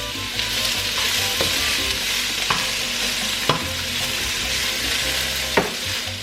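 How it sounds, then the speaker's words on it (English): Onions sizzle and crackle in hot oil in a pan, a steady close frying hiss with occasional sharper pops and stirring clicks, no voices. "The oil is hot, and I'm gonna take and I'm gonna throw in the onions."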